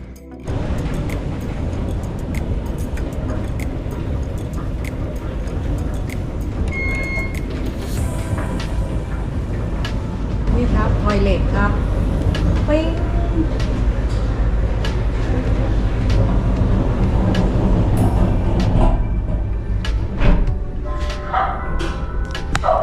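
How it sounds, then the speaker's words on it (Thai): Ride aboard a Paris metro train: a loud, continuous low rumble of the carriage with rattling, squeals and mechanical clunks, rising in intensity partway through, with faint voices in the background. "เราก็เลยตัดสินใจที่จะต้องเดินทางด้วยรถไฟใต้ดินค่ะ"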